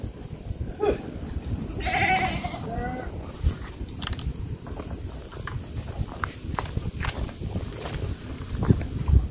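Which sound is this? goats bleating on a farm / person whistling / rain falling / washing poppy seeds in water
goats bleating on a farm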